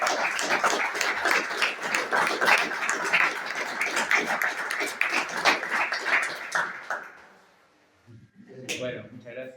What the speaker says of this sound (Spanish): le damos la bienvenida con un fuerte aplauso